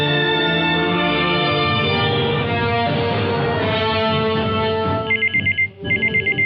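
A telephone rings with a steady electronic ringtone in a loud, continuous tone, breaking into repeated short pulses near the end, set in a Filipino drama at a police captain's office.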